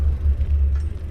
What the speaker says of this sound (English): I've seriously never known so many cars up here.